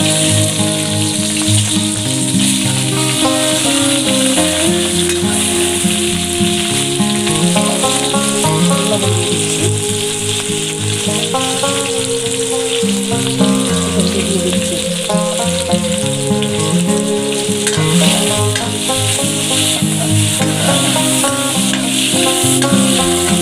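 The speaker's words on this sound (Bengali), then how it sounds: "তেলটা গরম হয়ে গেছে, এবার আমি আলু দিচ্ছি।" Potatoes sizzle loudly in hot oil while cooking jackfruit echor, a dense, constant crackle and hiss that holds steady throughout, close by with no talk over it.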